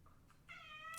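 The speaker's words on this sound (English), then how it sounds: "that's the cat." A house cat gives a short, faint meow, rising at the end, alone against quiet room tone.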